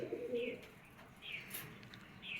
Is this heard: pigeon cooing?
yes